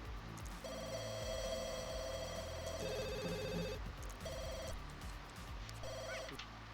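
A telephone in The Sims 2 rings in repeated electronic trill bursts, four rings with short gaps, clear over soft in-game background music.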